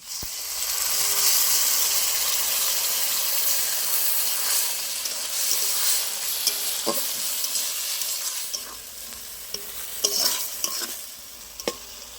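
A ground spice paste goes into a pan of hot oil and browned onions for a mutton liver kosha, hissing and sizzling loudly at close range with scraping stirs and light clinks near the end.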